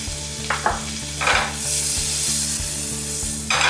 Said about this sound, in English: and then we can sear the skin first